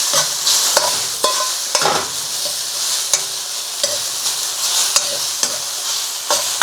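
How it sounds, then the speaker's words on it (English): Chow mein noodles with bean sprouts sizzle and hiss in a hot wok, with repeated sharp scrapes and clinks as they are stirred and tossed, close and continuous. "we can stir fry that in and mix it up"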